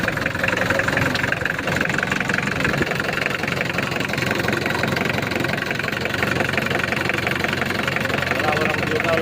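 A Mitsubishi Delica 4x4 with a turbo engine idles steadily up close, giving a continuous dense mechanical rumble with a fine clatter, while voices talk over it.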